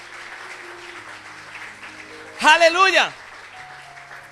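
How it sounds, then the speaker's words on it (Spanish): A church congregation claps loudly during a sermon, a dense wash of applause swelling with a sudden shouted exclamation from a voice riding over it. "Dele ese fuerte aplauso."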